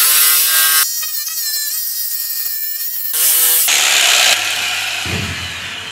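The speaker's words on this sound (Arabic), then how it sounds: "هنبدا بالتقطيع" A power saw cuts wood for a bed frame, whining loudly with the pitch shifting as the blade bites and frees, then steady harsh cutting noise and a low motor hum near the end.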